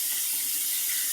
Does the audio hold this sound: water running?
yes